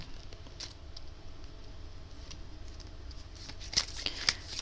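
Tarot cards being shuffled at a reading, a soft continuous papery riffle under low background hiss with a few sharper card snaps near the end.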